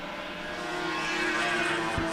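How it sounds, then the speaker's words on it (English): Orange Triumph TR6 sports car racing past at a historic motor racing festival, its engine note rising and swelling as it nears, then a short low thump at the end. "the TR6s. They sound glorious too as they sail past."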